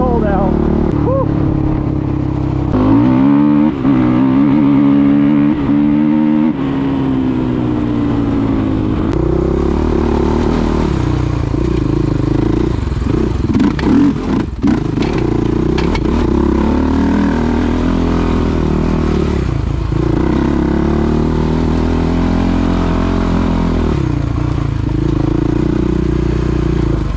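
A Suzuki LTR450 ATV with gear reduction revs and accelerates hard off the line in cold weather, its loud, close engine rising and falling in pitch through repeated throttle pulls.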